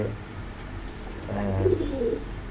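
A pair of Akashi Raj Golla pigeons gives soft, low, throaty coos midway through, faint and close against a quiet room hum.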